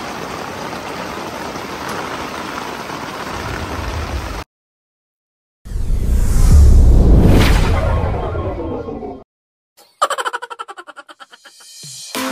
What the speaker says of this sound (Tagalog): Wow, lakas ng ulan.